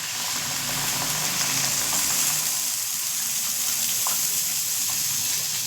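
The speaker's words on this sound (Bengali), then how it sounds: "কষানো হয়ে গেছে চলো এবার জলটা দিয়ে দিই" Water pours steadily into a pan of fish curry with ground black pepper, a continuous close gushing rush with no talk.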